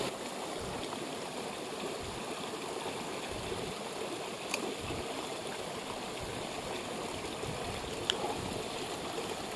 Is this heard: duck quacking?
no